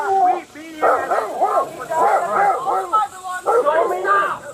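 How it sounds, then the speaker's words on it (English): A dog barks and yips in quick bursts during a police encounter, loud and close, mixed with shouting voices throughout. "This is my dog."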